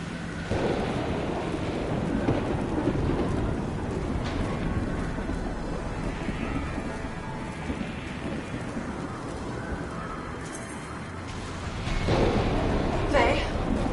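A violent thunderstorm in the video game Anthem, with continuous heavy rain and rolling thunder rumbles building loud near the end, while voices talk over the storm.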